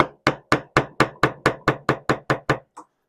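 A fine curved chisel is tapped into a chair dowel with about a dozen evenly spaced sharp knocks in steady rhythm, loud and close, ending with one lighter tap.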